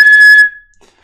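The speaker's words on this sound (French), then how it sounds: "un coup de sifflet, bien sûr, c'est encore plus fort parce que c'est avec un sifflet" A single loud, shrill whistle blast at close range, held briefly and then cut off, with a short fading ring afterward.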